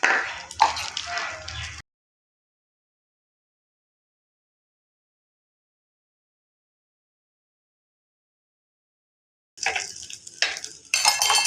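Chopped dry fruits fry in a spoonful of ghee in a small pan with a sizzling hiss and some stirring. It comes in two short bursts separated by a long silence.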